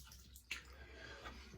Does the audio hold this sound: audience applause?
no